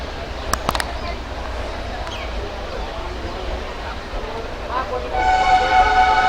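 Intercity Express train leaving Patiala station: steady loud rumble of the moving train with a couple of brief sharp clicks early on, then a drawn-out horn-like tonal blast joining toward the end.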